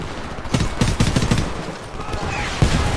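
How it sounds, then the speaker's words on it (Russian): Bursts of enemy gunfire in the shooter game Homefront: several sharp shots in a quick, uneven cluster early on, then a lone later shot, over a dense battle-noise background. "Черт, по мне стреляют!"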